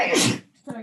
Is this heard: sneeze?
yes